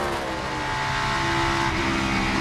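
A NASCAR Cup Series race car engine roars loud and close in a dense, continuous full-throttle drone, holding steady pitch throughout.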